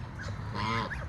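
Geese honking at a backyard poultry flock on a windy morning, several close honks and calls overlapping over a steady rush of wind.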